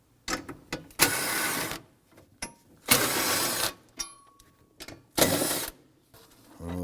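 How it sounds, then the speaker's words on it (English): A 13mm socket ratchet loosens two bolts and a nut on a 2003-2014 Volvo XC90, heard as several short bursts of rapid clicking separated by brief pauses, close and fairly quiet. "Using a 13mm socket, we're going to loosen and remove these two bolts and this one nut."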